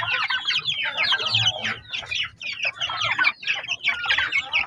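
Chickens on a farm, breeder hens with two roosters, clucking and squawking in a busy overlapping chorus close to the microphone, steady and lively with no talk over it.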